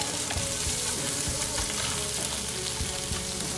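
Shrimp and squid fry for seafood fried rice with a dense, loud, continuous sizzle and intermittent stirring knocks against the pan.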